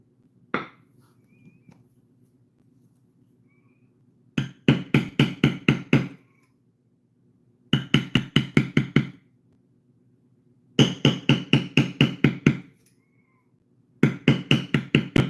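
A mallet taps a bevel tool into leather in quick regular runs of about six to eight sharp knocks. Each run is separated by a pause of a couple of seconds against a faint background hum.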